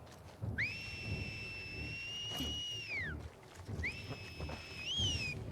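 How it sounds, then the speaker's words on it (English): A character whistles in the video game The Last of Us Part 2, two clear sustained tonal whistles, the first long and level, the second shorter with a rising bend, heard faintly over quiet game ambience. "Is it just him whistling?"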